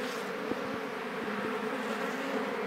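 Bees hum steadily at the entrance of a beehive, a close, faint, continuous buzz with no voices.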